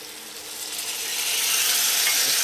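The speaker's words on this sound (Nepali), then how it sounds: "पानी हाल्छु।" Water hitting a hot frying pan bursts into a loud, rising sizzle that swells and holds steady as steam hisses off the surface.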